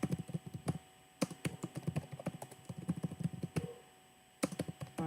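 Keys on a computer keyboard clatter in quick, irregular bursts, a run of close clicks, a short pause, then more typing, fairly quiet with no talking.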